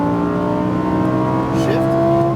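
Lamborghini Huracan STO engine pulling hard under throttle on a racing track, a loud, steady high-revving roar with its pitch rising near the end.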